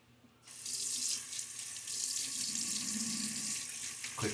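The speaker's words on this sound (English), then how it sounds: "Quick splash of water." Tap water runs steadily into a sink to wet a shaving brush, a close, continuous splashing hiss that starts abruptly after a brief quiet moment and carries on alone.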